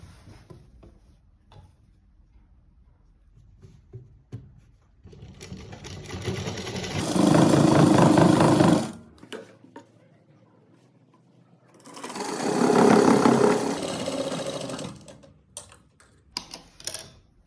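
A sewing machine stitches a straight salwar in two bursts of rapid mechanical clatter, separated by quieter clicks and fabric handling, close and clear with no talking.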